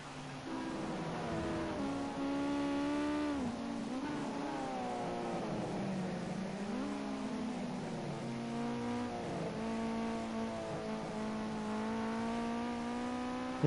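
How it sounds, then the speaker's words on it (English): Ginetta Junior race cars head out onto the track at Silverstone, their engines droning loudly and steadily with rising and falling revs as several cars rev and accelerate past, with no talk over them. "As cars begin to come out on track"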